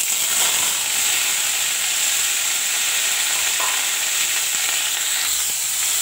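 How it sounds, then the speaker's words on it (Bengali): Boiled cauliflower frying in hot oil in a wok, a steady, dense sizzle with crackling spatters that holds at an even level throughout, with no voices. "তো কড়াতে তেল দিয়েছি, তেল গরম হয়ে গেছে, এবার আমি ফুলকপিটা ভেজে নেব।"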